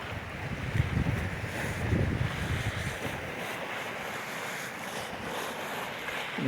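During a blizzard on an island in Muskoka, Ontario, strong wind roars in a constant broadband rush with gusty surges, buffeting the microphone.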